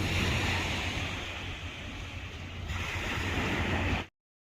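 Sea waves wash onto a beach in Busan, Korea, a steady close roar of surf mixed with wind noise for about four seconds before cutting off abruptly.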